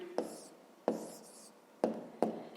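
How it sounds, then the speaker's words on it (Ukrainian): Pen strokes on paper while writing a math answer, four separate scratchy bursts of writing, close and quiet, with faint breathing between strokes. "записуємо тоді відповідь"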